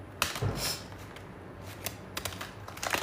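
Tarot cards being shuffled, a few soft riffling bursts and flicks near the start and end, faint and close against a quiet room.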